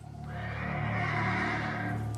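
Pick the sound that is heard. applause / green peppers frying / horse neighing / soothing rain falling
horse neighing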